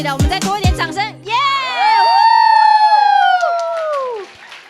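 A crowd at a Christmas joint Sunday worship service lets out a long, rising cheer of overlapping high voices, children's among them, after a few sharp shouts, with little clapping standing out.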